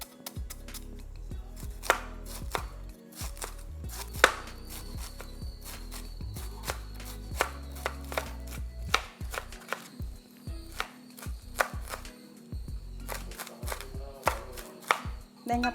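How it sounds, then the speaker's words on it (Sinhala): A knife chops banana blossom on a board in fast, steady strokes, sharp close taps continuing throughout with brief pauses between bursts. "දැන් අපි කෙසෙල් මුව කපාගෙන ඉවරයි"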